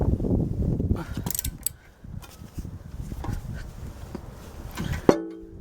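A flywheel on a 1955 Lister LD1 diesel engine comes free of its shaft with a sudden sharp metallic pop near the end, after a stretch of scraping and knocking, then a brief ringing tone.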